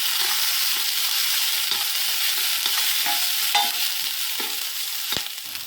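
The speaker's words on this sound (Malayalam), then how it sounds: "ഇനി ഇതിലേക്ക് കാബേജ് ചേർത്ത് കൊടുത്തൊന്ന് വഴറ്റിയെടുക്കാം" Cabbage and other vegetables stir-fry in a pan for veg hakka noodles, a loud, even sizzle with repeated spatula scrapes and knocks against the pan, no talking.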